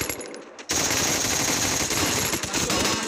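Rapid automatic gunfire from the video game Free Fire rattles off in a dense, loud burst after a short lull, with clipped shots running almost continuously to the end.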